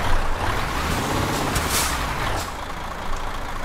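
A Kenworth K100 truck engine in Euro Truck Simulator 2 drones steadily and close, a deep, rough rumble that holds level for several seconds before easing slightly, with a faint hiss on top and no talking.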